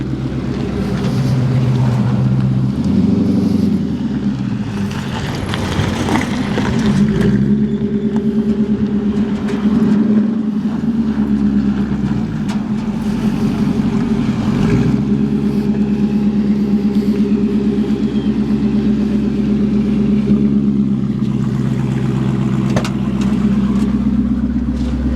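A Coyote-swapped 1976 Ford F100 pickup with a Whipple supercharger cruises along, its engine droning loud and steady with rising and falling surges and a faint supercharger whine throughout.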